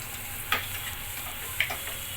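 Ginger and garlic paste fries with browned onions in a pan, giving a steady moderate sizzle broken by two sharp clicks of a spoon against the pan.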